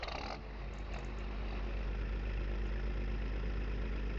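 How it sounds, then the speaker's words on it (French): Tractor engine idling while warming up in Farming Simulator 25, a steady low rumbling drone with a strong bass hum that holds even throughout, with a few faint clicks early on. "On va faire chauffer le tracteur."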